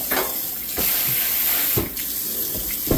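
Cold tap water runs steadily into a kitchen sink while mushrooms are rinsed, with a constant splashing hiss broken by a few brief louder knocks and shifts in flow.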